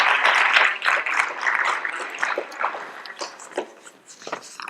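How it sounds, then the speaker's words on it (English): An audience applauds panel guests with dense, sustained clapping, loud at first and then thinning toward the end, with no talk over it. "Can we give them an applause?"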